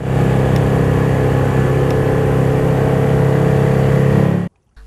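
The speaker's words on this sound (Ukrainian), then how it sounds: "Декілька хвилин на воді, і мотор одразу ж видав переможний гул." A new outboard motor on a boat hums steadily on the river during a rowing and canoeing school session, a loud, close, even engine drone that cuts off abruptly near the end.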